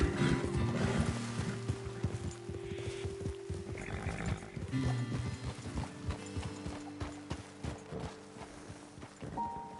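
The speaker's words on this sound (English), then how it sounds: "Okay, let's dismount here. Best leave the horses back a bit." Horses in the video game Red Dead Redemption trot along with clear, rhythmic clip-clop hoofbeats. The steps are close and steady throughout, with an occasional whinny and no talking over them.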